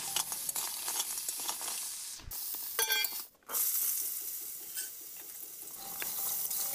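Crabs frying over low heat in a wok give a close, continuous sizzle, broken by scraping stirs and a few clinks of the spoon against the pan, with a brief pause partway through.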